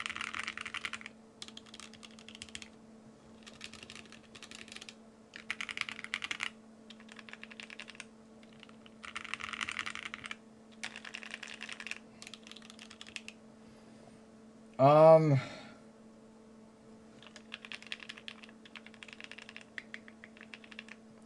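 Steady clacky typing on a Thera 75 mechanical keyboard, bursts of keystrokes with short pauses, close and clear, with a brief loud interruption midway.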